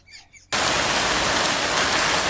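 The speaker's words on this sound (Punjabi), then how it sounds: "ਹੁਣ ਮਾਲੂਮ ਹੁੰਦਾ ਪਿਆ ਜਿਹੜੇ ਬਾਰਿਸ਼ ਆ ਗਈ ਹੈ" Heavy rain pours near the Sutlej river, a loud, dense, continuous hiss that starts abruptly after a brief quieter moment and stays steady and close.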